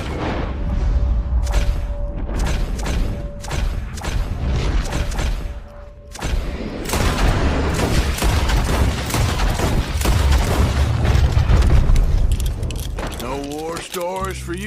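Rapid gunfire rattles through the Western video game Red Dead Revolver, dense volleys of shots and clattering impacts over a tonal backdrop, with a voice speaking near the end.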